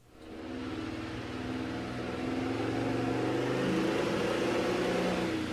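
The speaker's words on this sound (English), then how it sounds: "We got the motor fired up, but something doesn't quite sound right. We definitely have a miss." A sled pulling engine runs on a dyno with a misfire, a loud sustained mechanical drone with uneven low pulsing that swells slightly as it keeps running, close and alone.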